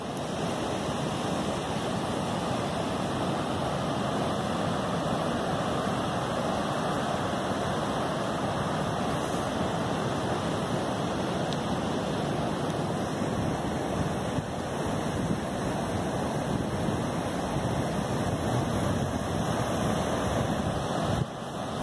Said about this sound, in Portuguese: vou dividir com vocês um pouquinho o som do mar